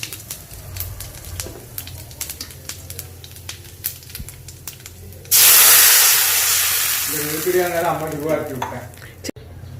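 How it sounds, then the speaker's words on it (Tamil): Mustard seeds and urad dal hit hot oil while tempering a South Indian dish, bursting into a loud, close hissing sizzle after light stirring and tapping. The crackle then fades slowly, with a voice briefly heard over it. "எண்ணெய் காஞ்சாக்கில் கடுகு உளுந்த பருப்பு போட்டு தாளிச்சுக்கலாம்."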